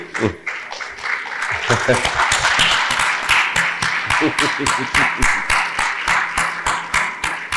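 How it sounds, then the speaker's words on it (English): Standing ovation for parents at a university welcome evening: loud crowd clapping that starts scattered and swells into a dense, steady roar, then settles into rhythmic, unison claps toward the end. "to acknowledge and applaud them"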